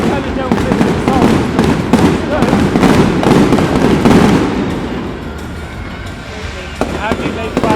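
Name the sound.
fireworks exploding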